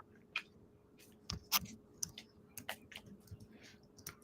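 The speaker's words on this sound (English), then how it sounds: "I started shuffling and a card just jumped right out" Tarot cards being shuffled by hand, giving quiet, irregular soft clicks and snaps of card edges over a few seconds, with no talking.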